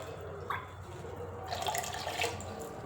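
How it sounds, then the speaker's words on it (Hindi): Water from a glass poured into a cooking pot in a home kitchen, a soft splashing pour that swells midway and runs steadily without any talk. "मैं यहाँ पे 1 गिलास पानी ऐड कर रही हूँ।"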